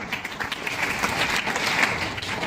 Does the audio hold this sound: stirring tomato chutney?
no